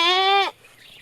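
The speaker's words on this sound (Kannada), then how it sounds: "ಇವು ಬೇರೆದಾರು ಆಡುಗಳು ನೋಡ್ರಿ," One goat gives a short, loud, close bleat that lasts about half a second and then cuts off, leaving quiet outdoor background.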